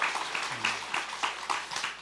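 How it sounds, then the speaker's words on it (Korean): Scattered clapping from an audience at a church gathering, a short burst of hand claps of moderate loudness with a faint voice underneath. "다시 한 번 더 박수를 보내주시면 좋겠습니다."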